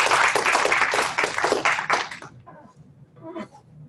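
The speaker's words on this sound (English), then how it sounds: "let's give him a real round of applause and welcome Detlev." Audience applause welcoming a speaker at a research presentation, a burst of clapping that fades out after about two seconds, followed by faint scattered sounds.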